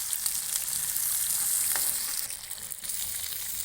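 Fish fries, sizzling and crackling steadily in a hot pan, close and continuous, with occasional stirring scrapes.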